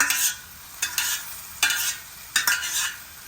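Beetroot pieces fry in a pan for a beetroot-coconut stir-fry, a steady close sizzle broken by about four sharp scraping stirs at regular intervals, with no talking.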